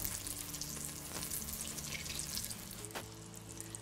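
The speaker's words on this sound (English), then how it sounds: "that butter is nice and melty" Butter melting in the flat-bottomed pot of an Instant Pot Pro for broccoli cheese soup, a quiet steady sizzle and crackle with faint hiss and a couple of brief scrapes, no voices.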